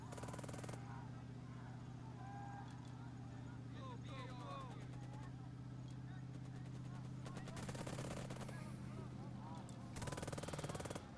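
Gunfire in the WWI video game Burden of Command during a push across no-man's land, bursts of rapid rattling shots over a steady low engine-like drone, with a voice talking faintly in places.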